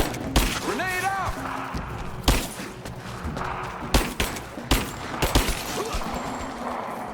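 Gunfire in a Rise of the Tomb Raider battle: sharp, loud shots and bursts scattered through the clip, with thuds and impacts, under shouted voices and game dialogue.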